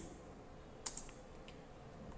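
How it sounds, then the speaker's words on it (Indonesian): Typing on a computer keyboard while entering text in Microsoft PowerPoint 2010, with a couple of faint, light key clicks spaced out over quiet room noise. "sekarang Bapak akan ketik profesi"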